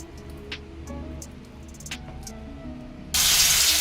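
Green banana kofta balls drop into hot mustard oil, and a sudden loud, steady sizzle starts partway through. It follows a quieter stretch of faint kitchen clatter.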